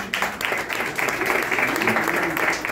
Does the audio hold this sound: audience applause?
yes